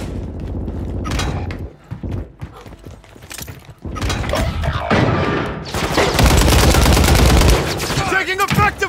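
Call of Duty Resurgence firefight with loud, close bursts of rapid gunfire, broken by short pauses and then a sustained volley near the end, alongside faint in-game radio chatter.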